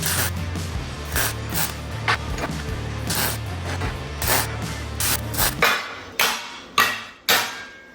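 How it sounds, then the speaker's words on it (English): Repeated hammer taps on a wooden porch column bracket, working bolts into slightly misaligned holes; a steady run of sharp knocks over a low hum, ending in a few louder, spaced strikes close by. "The holes were a little off and needed a little hammer tapping to get it in place."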